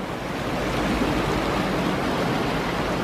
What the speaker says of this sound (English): The creek should be running fast and furious as usual.